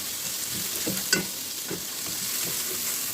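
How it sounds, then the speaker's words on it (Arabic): Sausage, garlic and tomatoes frying in a pan, a steady bright sizzle with a few soft scrapes and clinks of a spoon stirring, close and without talk. "وهنديلها تقليبة."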